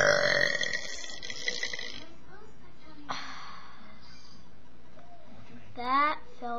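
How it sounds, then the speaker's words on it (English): A big, loud burp from a person eating Doritos Collisions Pizza Cravers chips, one long deep belch at the start followed by quieter breathing and a shorter gurgling burp near the end. "I'm gonna try to do some really big burps."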